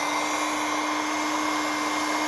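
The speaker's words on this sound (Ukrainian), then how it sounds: "Ну і будівельний фен. В моєму випадку фен з регулюванням температури. Включаю фену." A temperature-adjustable heat gun set to about 350 degrees blows steadily, a constant loud whooshing rush of air with a faint steady hum underneath, running without pause.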